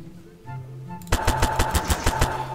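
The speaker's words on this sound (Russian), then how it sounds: "Мы слабую сбросим бомбу." A bomb dropped in Garry's Mod: after a quiet lead-in, a sudden burst of rapid, sharp explosive cracks rings out in a quick rhythmic series, loud and close.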